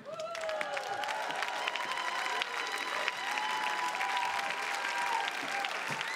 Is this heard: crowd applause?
yes